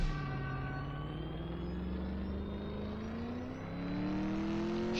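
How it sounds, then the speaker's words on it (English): A LM Rally Fighter in the CSR2 racing game pulls hard as its engine tone climbs steadily, then drops with a quick gear change and surges again as nitrous kicks in, loud and continuous without speech. "Perfect shift into second, hit your nitrous, and then you're good to go."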